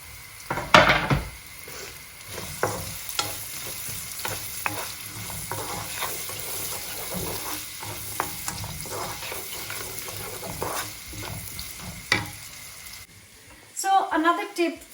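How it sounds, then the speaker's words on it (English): Chopped onion sizzles and fries in a pan for a restaurant-style chicken madras curry, a steady close crackle broken by stirring scrapes and utensil clinks, with a louder clatter of pan handling near the end. "once all of that is sizzling, I'm going to add the chopped up onion"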